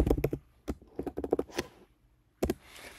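Keystrokes on a computer keyboard, a quick burst of close clicks then a pause and a short final pair, while someone types a note shortcut in note-taking software.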